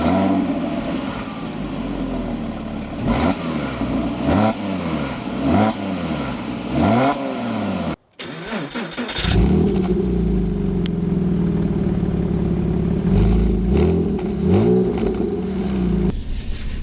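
A Porsche 987.2 Cayman or Boxster with the 2.9 engine revs repeatedly in short rising blips, drops out briefly, then settles into a sustained loud, steady drone close by, with no talking.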